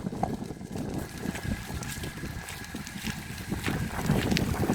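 Headwind buffets the microphone while riding, a continuous rough blustering rush that swells and fades, with scattered small knocks and no talking.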